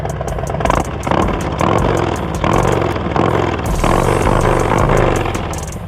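A 2024 Harley-Davidson Road Glide or Street Glide in road mode is revved with repeated throttle blips. The engine roars loud and close in rhythmic surges, about one every second.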